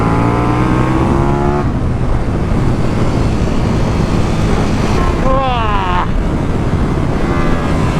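Loud, close engine of a KTM 1390 Super Duke R motorcycle pulling hard through the gears, with rising pitch sweeps, a brief drop in revs around the middle, then another quick climb, over constant wind roar.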